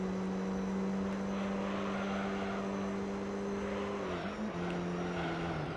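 A race car engine held at full throttle in Gran Turismo 3 drones loudly and steadily, its pitch nearly constant before dipping briefly near the end, as with a gear change, then settling again.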